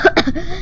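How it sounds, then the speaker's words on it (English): A young person coughs during an Among Us game session, two or three quick harsh bursts close to the microphone in under a second, followed by a brief throaty trail. "I'm not laughing, I'm coughing."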